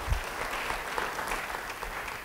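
A church congregation applauds at a sermon, a steady wash of many hands clapping together, moderately loud and continuous from start to finish with no voices standing out.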